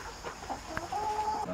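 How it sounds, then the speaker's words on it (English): Silkie chickens and a rooster clucking close by on a farm, a few short clucks and calls in quick succession, with a sustained higher squawk near the end and no talk. "First one out is the rooster."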